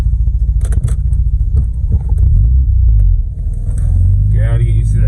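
A car with a Renesis 13B rotary engine rumbles steadily at close range, its low drone rising slightly as it pulls away, with a few light clicks and rattles on top.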